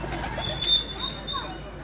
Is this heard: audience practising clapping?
no